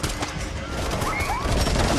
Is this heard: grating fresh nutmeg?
no